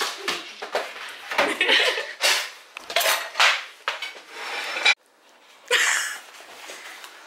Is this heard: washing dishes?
yes